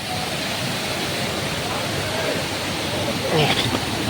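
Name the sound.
waterfall in a Kanyakumari forest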